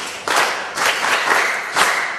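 Students in a Kenyan science classroom clap for a classmate, several short bursts of group clapping in a fairly close room, each swelling and fading.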